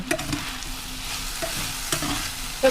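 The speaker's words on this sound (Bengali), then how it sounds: "আগে একটু ভাজা ভাজা হোক, মানে মশলাটা একটু ভাজুক" Spices and green chilies frying in a pan with potatoes and shrimp, a dense constant sizzle close by, with a few soft scrapes of stirring breaking through.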